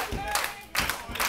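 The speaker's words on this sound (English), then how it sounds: "Crowd getting behind Dirty here" Crowd clapping at an independent professional wrestling show in a small venue, rhythmic bursts of claps rising and falling over about a second, moderately loud with some background murmur.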